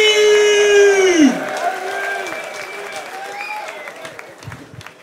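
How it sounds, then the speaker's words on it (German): At a rap battle final, a sustained shout gives way to a crowd clapping and cheering, loud at first and then thinning out as the applause continues. "Mach mal Applaus für das Finale"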